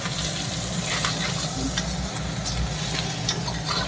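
Noodles fry in a pan, stirred with a large spatula: a loud, steady sizzle with frequent clicking scrapes and shuffling from the stirring.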